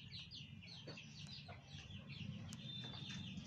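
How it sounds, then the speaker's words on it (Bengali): Domestic chickens, a mix of roosters and hens including local desi birds, cluck softly around a home coop, with faint scattered calls over a steady low background. "2টা হচ্ছে মোরগ, 3টা হচ্ছে মুরগি, সাথে 2টা দেশি মুরগি আছে"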